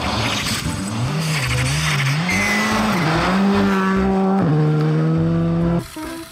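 A toy race car sound effect: a revving engine whine rising and falling in pitch with tire squeals, loud and close, stopping abruptly.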